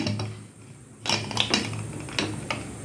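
A pressure cooker lid is closed over dalma with onion, green chilli and chopped ginger: a short burst of metallic clatters and clicks, close and fairly loud after a quiet start, with no talk.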